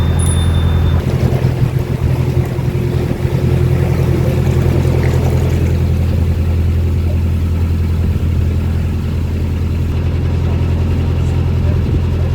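Narrowboat engine running steadily at 1300 RPM while cruising a canal between Castlefield Basin and Altrincham, a loud, close, constant low drone with no change in pitch, a voice faintly over it at the start.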